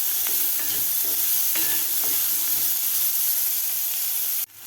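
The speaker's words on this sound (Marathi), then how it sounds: "कांदा सुद्धा आपल्याला 2 मिनिट चांगला फ्राय करून घ्यायचा आहे." Chopped medium onion frying in oil in a pan for tondli bhaji, with steady close sizzle and several scraping stirs of a spatula, continuous throughout until a sudden drop at the very end.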